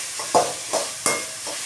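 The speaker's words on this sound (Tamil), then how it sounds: "சோயா சாஸ் போட்டு நல்லா ஃப்ரை பண்ணிட்டு" Vegetable fried rice stir-fried with soy sauce in a pan, heard as four sharp scraping tosses at an even pace over a low, steady sizzle, close by with no talking.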